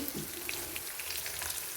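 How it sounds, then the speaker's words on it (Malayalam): A short burst of red snapper and its roe frying: a soft, close sizzle with a few tiny pops. "മീനിൻ്റെ ഒരു കഷണവും കൂടെ വറുത്ത് കൊടുക്കുക"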